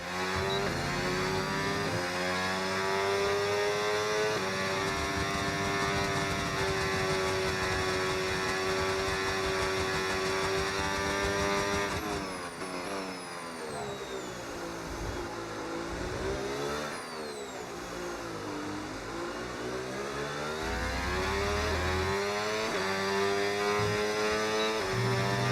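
F1 race car engines in the video game F1 25 with the 2026 season pack: a loud, continuous high-pitched engine whine that rises and falls through gear changes, with other cars passing partway through.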